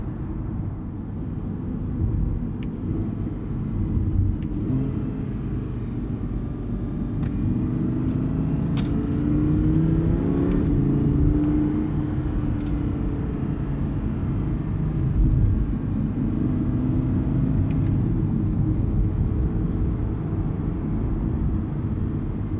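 A V10 sports car cruising gently on back roads produces a steady low engine rumble with smooth, rising and falling revs, heard from inside the cabin without any talk.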